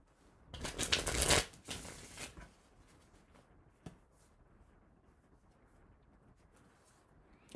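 Oracle cards being shuffled by hand in a quiet room, a dense riffling burst near the start followed by a few softer shuffles and occasional light taps.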